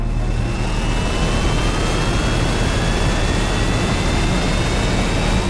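A spaceship's engines roar through takeoff in an action audio drama scene, a loud, dense, continuous jet-like rush with rising whining tones sweeping across it, steady and unbroken from start to end.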